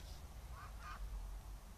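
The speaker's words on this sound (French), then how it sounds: "Alors ici, quelques canards au passage." A couple of short, faint duck quacks come from a distance over a low outdoor rumble.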